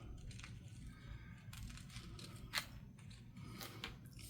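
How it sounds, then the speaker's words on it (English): Scissors trimming off leftover paper from a handmade sticker roll, several quiet close snips and crisp cuts with one sharper clip, faint against low room noise. "grab my scissors here and trim it off"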